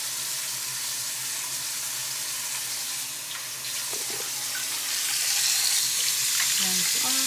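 A tap runs steadily into a sink while a dental retainer is rinsed under it, a constant close splashing wash with a few faint clinks.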